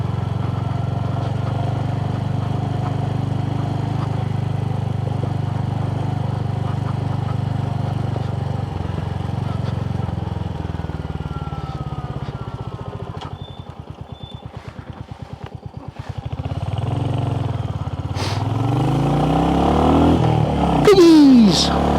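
A Royal Enfield HNTR 350 motorcycle riding slowly on a road on road tyres: a steady, close engine drone with some rattling vibration and a slight rise in revs near the end.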